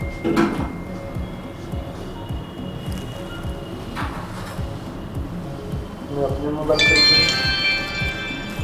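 A mobile phone handset's ringer, tested during repair of a speaker ringer fault, breaks into a bright electronic ringtone near the end, following background bench noise and handling clatter.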